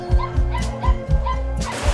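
Abandoned dogs at a large stray-dog shelter in Kaohsiung give a rapid series of close, loud yips and whimpering bow-wows in a repeating rhythm, with no talking.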